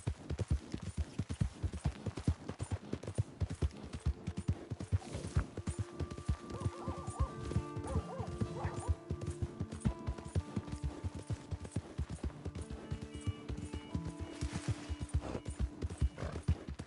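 A horse in Red Dead Redemption 2 gallops with rapid, steady clip-clop hoofbeats throughout, breaking into several loud neighs and whinnies midway, close and clear with no speech.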